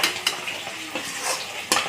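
A utensil stirs garam masala through banana flower and shrimp frying in a pan, with scraping strokes and light clinks over a steady sizzle, close up and without talk.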